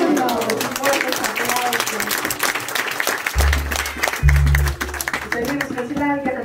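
An audience at an event in Xepepen, Joyabaj, Quiché claps and applauds, the clapping rising and falling while a voice speaks over it and a loud thump breaks in midway.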